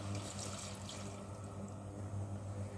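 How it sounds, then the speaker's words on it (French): White wine poured into a hot pan of seafood pasta, a steady, continuous liquid pour with a soft hiss, close and moderately loud throughout, with no talking. "j'ajoute le vin blanc."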